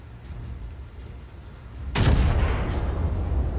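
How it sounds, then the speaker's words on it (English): A battleship's front guns fire in a naval combat video game, a single heavy boom that breaks over a low engine and water rumble and then rolls on into a loud, sustained roar. "Let's fire off them front guns at this New Mexico"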